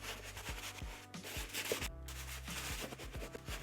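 A soapy brush scrubbing an Air Jordan 1 Hi '85 Bred sneaker, quiet rhythmic rubbing strokes repeating every fraction of a second, close by, with no talking.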